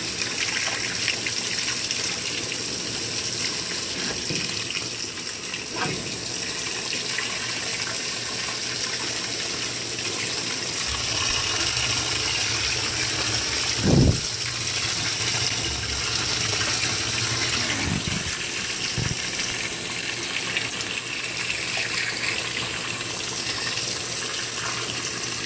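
A GE GTW680BS6JWS washing machine fills with warm rinse water on its delicate cycle. Water gushes in a constant, hissing stream, and a few soft clunks break through near the middle.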